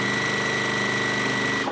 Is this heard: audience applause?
no